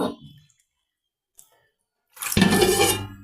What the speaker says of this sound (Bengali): এই যে পুঁই শাকটা ধুয়ে নিলাম এটা ভাজি করব